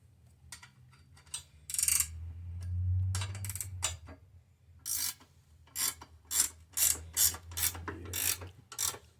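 A 1/2 inch ratchet tightens the bolt of a Bushtec trailer hitch on a Harley-Davidson Street Glide, with a run of close, rhythmic clicking strokes after some earlier scraping and handling noises.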